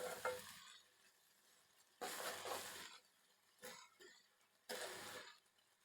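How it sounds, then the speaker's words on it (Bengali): Leafy greens fry in a pan with quiet, intermittent bursts of sizzling and stirring, separated by near-silent gaps. "আমার শাক ভাজা হয়ে গেছে নামিয়ে নেব"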